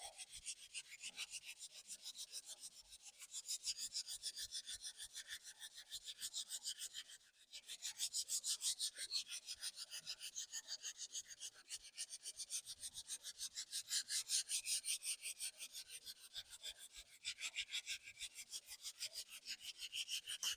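Fingertips rub hard wax oil into a scratched wooden floor, producing a quiet, rapid back-and-forth rasping with a regular rhythm and one brief pause partway through.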